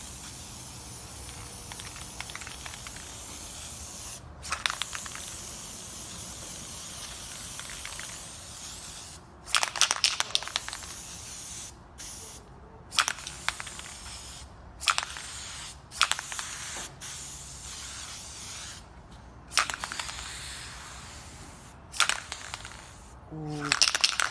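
An aerosol can of air filter oil, sprayed onto the filter of a 2000 Suzuki RM125, hisses in a series of short and longer bursts, close by, separated by brief pauses.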